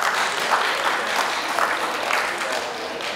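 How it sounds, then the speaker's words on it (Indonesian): A room full of people at a halal bihalal gathering applauds the eldest attendee, Pak Sutoyo, with steady, close, dense clapping that runs the whole time. "Wah, itu perlu diberikan aplaus."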